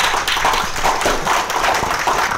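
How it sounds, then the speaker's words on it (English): An audience at a candidate fireside chat applauds Ray L'Heureux with steady, dense clapping from many hands. The applause is loud and close and continues for the whole moment without voices. "Big round of applause, please, for Ray Lheureux"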